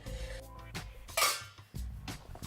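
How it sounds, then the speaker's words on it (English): Pieces of burdock drop into a pan in a few quick clattering bursts, with light clinks and scrapes between them, close and fairly quiet. "And then I'm going to take our burdock and put it into a pan."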